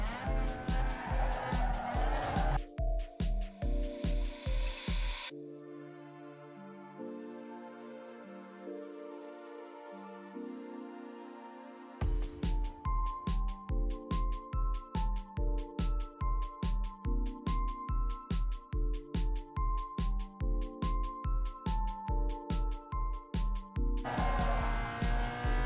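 A tuned car in Need for Speed Underground 2 accelerates hard through its higher gears, the engine revving up in repeated rising sweeps with quick gear changes and a brief lull mid-run, loud and close throughout.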